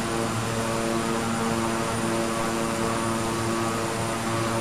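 Twin propellers of a Beechcraft 350i King Air in the Microsoft Flight Simulator video game drone steadily in flight, a loud, continuous engine hum with a dense whirring buzz and no talking.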